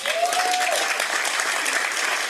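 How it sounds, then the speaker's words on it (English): An audience breaks into a round of applause during a political speech on Canadian trade, steady dense clapping filling the room throughout with a faint tone near the start. "All right, he gets a little round of applause."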